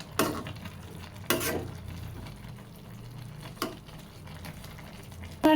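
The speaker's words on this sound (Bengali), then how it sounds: "নাড়াচাড়া দিয়ে দিব তলেরগুলো হয়ে গেছে উপরেরগুলোই দিতে হবে" Pumpkin greens being stirred in a pan, giving a low, muffled bed of cooking noise with a few sharp scrapes of the spoon against the pan spaced through it.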